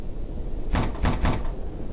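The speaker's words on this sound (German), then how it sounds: "Jetzt klopft jemand an der Tür." Three loud knocks land on a door in the horror video game The Apartment, evenly spaced and close, over a quiet background hum.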